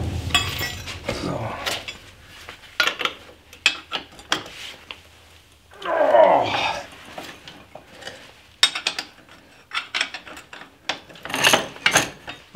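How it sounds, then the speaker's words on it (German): Metal bracket being unscrewed and worked loose on a Toro Greensmaster 3250-D greens mower, with repeated close ratcheting clicks, scraping and clanking taps spread throughout, plus a louder grinding rasp near the middle. "dann schraube ich hier diesen Bügel ab"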